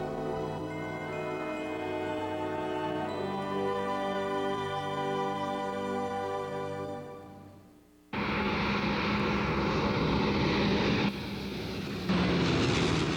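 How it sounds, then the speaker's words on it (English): An airliner landing at Heathrow Airport is heard as a steady engine hum with tonal whine that fades, then cuts abruptly to a loud, broad rushing roar of engines and air close by. "We're about to land at Heathrow."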